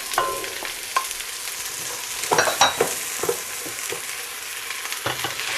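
Vegetables, zucchini, rice and beans cooking together in a soup pot, with close clattering stirs and scraping over a steady bubbling sizzle; no one speaks.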